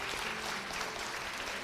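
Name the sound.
applause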